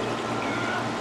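Liquid being poured carefully into a container at home, a short, even, soft gurgling stream heard close up.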